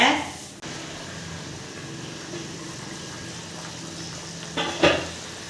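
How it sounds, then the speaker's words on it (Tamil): Steady low hiss and faint bubbling of vatha kuzhambu, a tamarind curry, simmering on low heat in a covered pot, with a couple of light clinks near the end. "இப்போ இதை வந்து மூடி போட்டு சிம்மில் வச்சு நல்லா கொதிக்க விடணுங்க"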